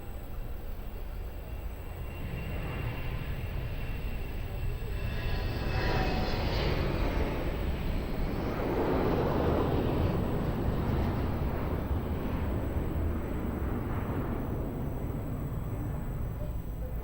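A Transavia airliner departs from runway 02 at Lisbon Airport, its engine roar swelling from a distant rumble to a loud, broad wash that peaks mid-way and then slowly eases, with no voices.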